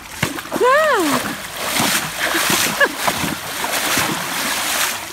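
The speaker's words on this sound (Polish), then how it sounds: "Armstrong, pokop kopytkiem w wodę" Horses paw their hooves in water, giving scattered, irregular splashes and sloshing close by, while someone talks and a horse gives a brief whinny-like call.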